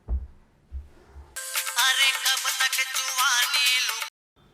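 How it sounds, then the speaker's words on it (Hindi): A phone ringing tone plays during an outgoing call, a bright repeating electronic melody lasting about three seconds after a few low thumps, then cutting off abruptly. "कौन ला फोन लगाऊं? जयला लगा लेता हूँ।"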